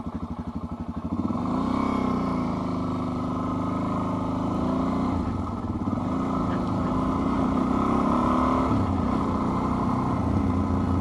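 A Suzuki DRZ400 motorcycle engine cranks with a rapid chugging, catches, and settles into a steady, close idle with slight throttle swells.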